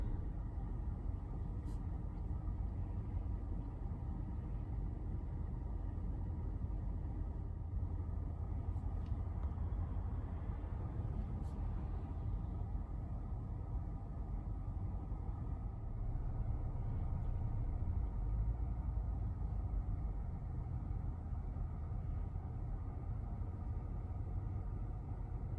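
A car idles in stopped traffic at a light, with a continuous low engine rumble and a faint road drone that holds steady throughout, with no talking.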